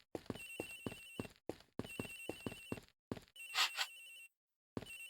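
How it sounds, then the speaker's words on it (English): A telephone rings in the Ace Attorney Investigations: Miles Edgeworth video game, several quick bursts of bright electronic ringing with short pauses between, loud and alone. "Agent Hicks' phone. It's ringing from somewhere, sir."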